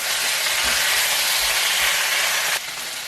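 Pieces of steak for black pepper steak sear in a hot pan, giving a loud, steady sizzle throughout that drops off and softens slightly near the end.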